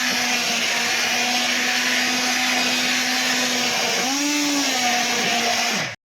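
A blender's motor whirs loudly and steadily, its pitch dipping briefly as it churns through thick cooked yellow moong dal, then cutting off abruptly at the end.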